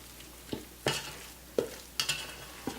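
A spoon scrapes and knocks through gumbo in a pot, five or six sharp irregular strokes over a faint background hiss.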